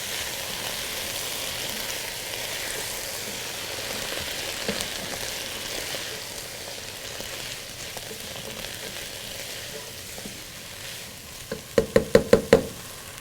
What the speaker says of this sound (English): In go the potatoes.